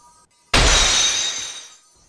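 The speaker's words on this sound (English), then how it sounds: "the final psyche lock shattered, which caused the chains in darkness to retract and disappear" Psyche lock shattering effect in Ace Attorney style: a single sudden loud crash of breaking glass that bursts in and rings out with a bright, fading shimmer over about a second, heard alone.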